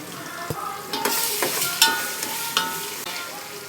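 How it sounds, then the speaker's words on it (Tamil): Ginger garlic paste sautés with onions in a pan for vegetable biryani, a soft close sizzle broken by scraping stirs and occasional clinks of a spoon against the pan, no voices. "இந்த மாதிரி வதங்கின உடனே நம்ம இஞ்சி பூண்டு பேஸ்ட்டை ஆட் பண்ணுவோம். ஆட் பண்ணிவிட்டு நல்லா வதக்கி விடுங்க."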